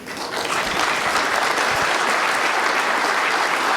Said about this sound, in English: And the crowd acknowledging that good effort.